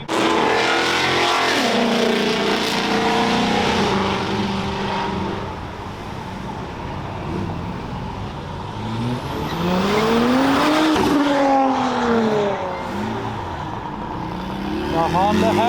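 Several cars at a car show, among them a Toyota Supra and a Kia, rev hard and accelerate past with tire squeal. Loud engine sweeps rise and fall throughout, and voices shout and cheer over the noise.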